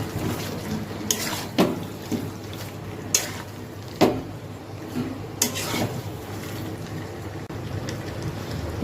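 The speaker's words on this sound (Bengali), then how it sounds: "যে পেঁয়াজটা ভেজে রেখেছিলাম, ওই পেঁয়াজটা আমি এখন দিয়ে দিলাম, দিয়ে এবার একটু কষাবো" Fried onion is stirred into Bengali-style chicken kosha in a pan, with a steady low sizzle broken by several sharp scraping strokes of the spoon against the pan, spaced a second or two apart.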